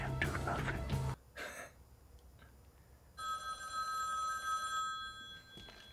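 An old landline-style telephone bell rings in a tense scene from the 2014 action film John Wick, a steady trilling ring sounding for a couple of seconds after a burst of louder dialogue and score.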